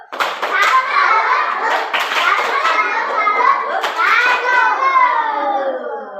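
Young children in a classroom chant together in rhythm with clapping hands, a lively group performing a tepuk salut clap routine, voices loud and close with claps mixed through the chanting.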